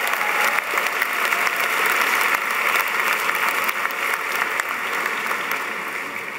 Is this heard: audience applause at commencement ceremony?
yes